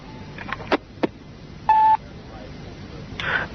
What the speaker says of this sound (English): Yeah, can you ring Bernie, please